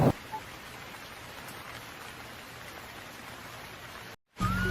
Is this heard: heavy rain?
yes